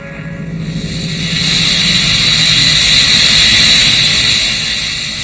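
A Vickers Vimy biplane taking off, its piston engines building to a steady, loud drone with broad hiss that swells after the first second and holds near and strong throughout.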